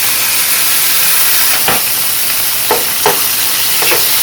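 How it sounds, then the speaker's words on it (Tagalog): Corned beef fries with chopped garlic in a hot pan, a loud, steady sizzle throughout with a few faint scraping stirs on top. "Lagay na natin ang ating corned beef."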